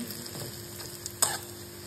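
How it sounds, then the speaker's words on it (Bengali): A paste of potato, green chilli and gram flour fries in a pan with a soft, steady sizzle and one small crackle, quiet and close. "আলু, কাঁচা লঙ্কা আর বেসন দিয়ে পেস্ট করেছি, এটা একটু ভাজবো"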